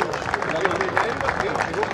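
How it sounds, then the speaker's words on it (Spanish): Brief, dense applause rises from spectators at a Santa Rosa cattle show as a female grand champion cow from Cabaña La Elba is honored, a continuous clapping wash with crowd murmur beneath. "Un fuerte aplauso, por favor."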